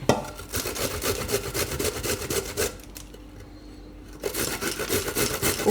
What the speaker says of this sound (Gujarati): હવે આદું, તો આદુની છાલ કાઢી નાખી છે, એને ભેગું છીણી લેવું